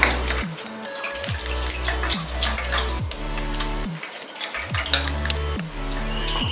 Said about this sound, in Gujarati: ઠંડુ પાણી રેડી દઈશું આપણે એટલે તેની રીઝવાની પ્રોસેસ બંધ થઈ જશે.